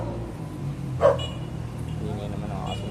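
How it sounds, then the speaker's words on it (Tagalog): A single short dog bark at moderate distance over a low background hum, with faint talk in the background. "Ingay naman ang aso na yun."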